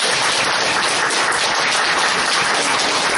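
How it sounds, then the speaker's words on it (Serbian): Applause welcoming minister Vulin at a traditional gathering of pensioners in the Zorka community hall, a dense, steady crowd clapping that fills the whole stretch at close range without pause. "molim vas jednim velikim aplauzom da ga pozdravimo"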